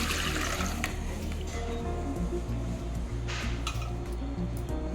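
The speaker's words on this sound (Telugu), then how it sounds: "ఈ నీళ్ళు వడకట్టిస్తామండి." Water is strained off soaked little millet, a continuous close pour and splash of liquid draining with occasional light clinks of a pot or strainer, steady throughout and unaccompanied by talk.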